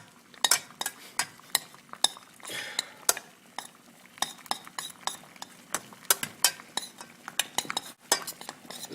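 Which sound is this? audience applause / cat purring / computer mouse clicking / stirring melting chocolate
stirring melting chocolate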